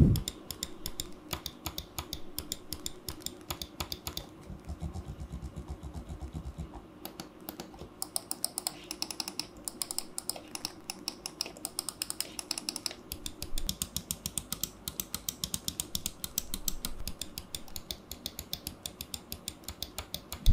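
Quiet, rapid clicks of a SteelSeries Rival 3 mouse patter in uneven bursts, close and crisp, with no voices.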